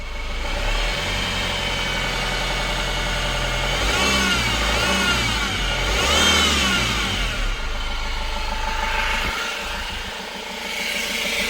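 Renault Master van engine running at idle with a steady mid-pitched hum and a persistent whine, the note rising and falling slightly midway, recorded close with no talking.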